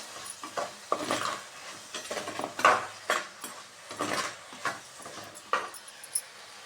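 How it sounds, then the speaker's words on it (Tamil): Tomatoes and onions sauté in a pan for a spicy tamarind curry, a spatula scraping and tossing them in irregular strokes over a faint, quiet sizzle. "தக்காளி வெங்காயம் எல்லாத்தையுமே நல்லா வதக்கணும்"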